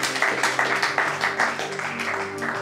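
A church congregation applauding, a dense, steady clapping that fills the room and stays loud throughout.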